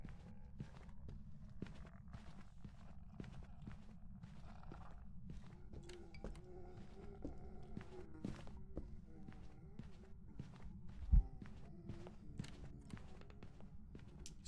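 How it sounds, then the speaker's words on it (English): Ghost footsteps during a hunt in a horror video game, a steady run of sharp, evenly spaced steps over a low constant hum, with one louder thump near the end and no talking. "You can hear footsteps, and then when it gets very close, you'll hear a heartbeat."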